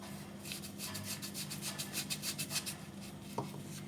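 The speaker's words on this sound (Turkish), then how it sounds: "Bunları iyice çırpıyoruz." Batter ingredients for a börek being whisked in a bowl, a steady fast rhythmic scraping and rubbing that runs through the whole stretch with no talking.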